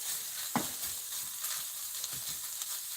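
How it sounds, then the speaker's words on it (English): Spinach and onions sizzle in a frying pan while being stirred, a close, steady hiss broken by a few scraping and clacking stir sounds. "This is where you start mixing everything and spicing things."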